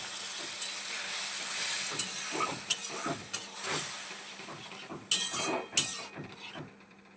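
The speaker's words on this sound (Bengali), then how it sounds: "এবারে আমরা এর মধ্যে পরিমাণ মতো কিছুটা জল দেব" Water splashed into a spice paste frying in a pan for capsicum paneer, hissing and sizzling steadily throughout, with a few sharp clinks of utensils against the pan.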